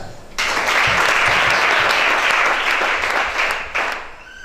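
A church congregation applauds during a prayer and deliverance worship service: loud, dense clapping from many hands sets in sharply, holds steady for about three seconds, then dips and trails off.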